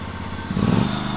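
Lawn mower engine running at full throttle, a steady loud drone that swells slightly partway through, close by and heard alone.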